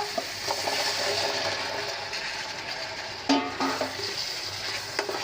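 Taro pieces are stir-fried in a spicy masala paste, a steady low sizzle with scraping stirs and occasional clinks of a spoon against the pan, heard alone at moderate volume.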